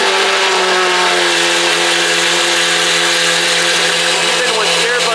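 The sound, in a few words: Lamborghini Aventador SVJ exhaust revving loudly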